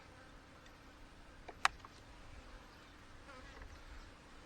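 Honey bees from an angry hive that needs requeening hum in a faint, steady drone, with one brief sharp click partway through and no voices.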